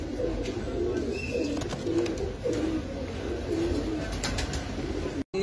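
Pigeons in a coop give soft, repeated throaty coos, a low rolling murmur that continues steadily at moderate distance over light background noise, with a brief dropout near the end.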